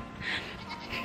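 Baby goats at a campsite give two short, faint bleats, the second fainter than the first, with quiet background noise and no talking.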